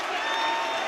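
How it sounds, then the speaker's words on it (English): A boxing crowd in a Belfast arena cheers and applauds continuously, a dense roar of clapping and shouting with no break. "The crowd here in Belfast up on their feet."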